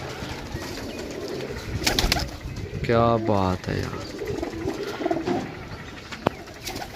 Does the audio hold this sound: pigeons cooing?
yes